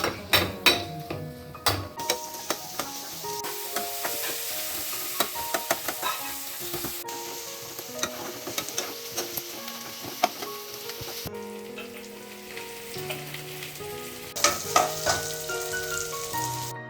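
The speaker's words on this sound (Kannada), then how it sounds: "ಕಟ್ ಮಾಡ್ಕೊಂಡಿರೋ ಈರುಳ್ಳಿನ ಹಾಕಿ ಸ್ವಲ್ಪ ಫ್ರೈ ಮಾಡಬೇಕು" Chopped onions frying in a couple of spoons of oil for a fish curry, with a steady sizzle under repeated spoon scrapes and clanks against the pan throughout.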